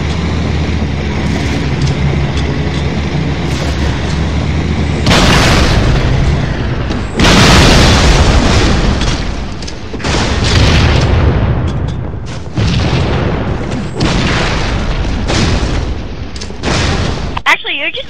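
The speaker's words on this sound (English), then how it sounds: "he ran into my grenade" Grenade and other explosions in a Halo 3 custom game boom repeatedly, several loud bursts in quick succession with crackling debris, while players talk and laugh over the game sound.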